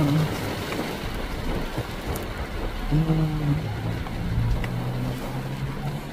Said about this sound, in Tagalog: Tapos banat na naman ng ulan.